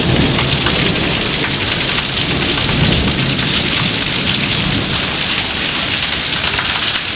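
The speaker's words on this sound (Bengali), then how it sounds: "বাজ পড়ছে।" Steady rain pours and patters on surfaces in the hills of Khirsu, Pauri, Uttarakhand, with low rumbling thunder rolling underneath through the whole stretch; no one speaks.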